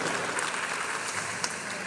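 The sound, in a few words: audience applause for Jayan Nambiar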